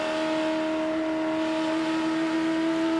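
A 5-litre Holden V8 AUSCAR race car revs hard at about 6,200 RPM on the steep banked oval of Calder Park Thunderdome, a loud, steady, sustained engine tone with no break.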